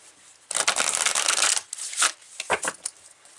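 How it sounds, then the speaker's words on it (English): Tarot cards shuffled on a cloth close up: a dense riffling burst lasting about a second, followed by several short papery slaps as the cards are tapped and set down. "Let me get my little cloth that I've been using all week so I don't break your ears when I shuffle and put the cards down"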